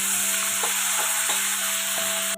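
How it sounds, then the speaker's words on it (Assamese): Fish pieces fry in oil in a kadai, giving a loud, steady hiss and sizzle with a few soft scrapes of stirring, close up and alone. "কেৰাহী পাতি মাছখিনি প্ৰথমে ফ্ৰাই কৰি লওঁ"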